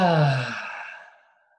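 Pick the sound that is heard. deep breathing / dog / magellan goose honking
deep breathing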